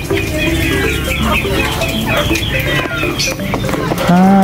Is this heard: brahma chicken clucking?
yes